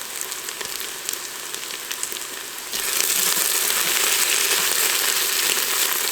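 Garlic tipped into onions already frying in a pot for French onion soup, a steady crackling sizzle that swells louder and fuller partway through, close and continuous with no talking.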